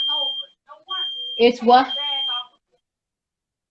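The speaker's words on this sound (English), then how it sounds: "The bag is covering the fire alarm." A fire alarm with a bag covering it sounds a steady, piercing electronic beep that breaks off briefly and then resumes, while a person speaks over it before it stops.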